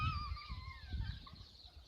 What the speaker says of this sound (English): listen, you can hear the birds